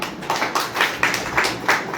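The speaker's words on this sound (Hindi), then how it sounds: "ताली बज सकती है" An audience at a health and wellness session claps in a loose rhythmic pattern, about eight distinct bursts of hands over two seconds, close and moderately loud.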